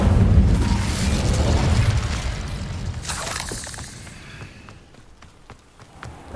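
An Incendio fire spell goes off in Hogwarts Legacy with a loud, bursting whoosh and crackling blast up front, then trails off into scattered pops and debris clatter as it fades.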